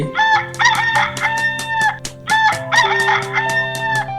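Two cartoon roosters crow at dawn in an animated village fable, two loud, close cock-a-doodle-doo calls in quick succession, alone with no talk.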